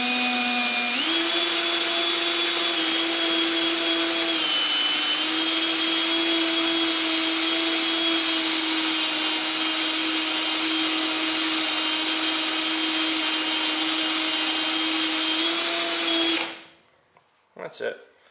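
A polishing machine whines steadily and loudly while buffing aluminum and stainless steel for a mirror finish, its pitch shifting slightly as the part is rotated, then spinning down and stopping near the end with a few faint clunks.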